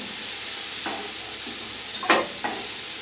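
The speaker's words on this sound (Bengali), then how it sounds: "আমরা তেল গরম করে ফোড়নগুলো দিয়ে দিলাম। এর মধ্যে পেঁয়াজ কুচি দিয়ে দিচ্ছি, ভালো করে নেড়ে নিচ্ছি।" Cumin-style whole spices and chopped onion hit hot oil for a Bengali shukto, giving a steady close sizzle broken by a few scraping stirs of the spoon, with no talking.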